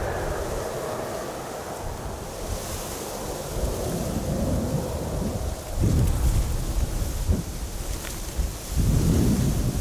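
Storm Bert's strong wind roars at Amsterdam Schiphol Airport, a loud, continuous broadband rush that swells into heavier gusts near the middle and end, with no voices.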